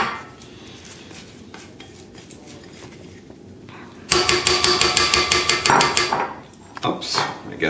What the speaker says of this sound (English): scrape down the walls of the bowl very nicely